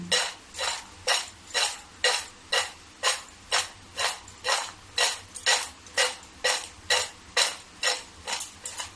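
A spoon stirs spice mix into peanuts in a bowl, a rhythmic run of about twenty evenly spaced scraping, rattling strokes, close and clear with no talking.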